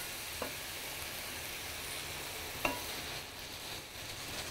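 Carrot greens, leek and lovage fry in a pan with a steady, even sizzle, close and fairly soft, broken by two brief clicks, likely a spoon against the pan.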